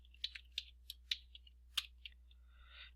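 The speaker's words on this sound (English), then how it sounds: "we just type in what we want it to say" Computer keyboard typing, a sparse run of about a dozen sharp, quiet key clicks at uneven intervals over a low steady hum.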